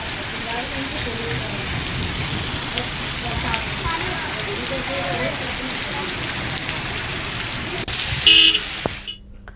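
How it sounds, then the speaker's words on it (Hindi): Heavy rain pours steadily onto city streets after strong wind, a dense close hiss with a car horn sounding faintly in the mix, before the sound cuts off abruptly at the end. "तेज हवा चली, उसके बाद जोरदार बारिश शुरू हुई।"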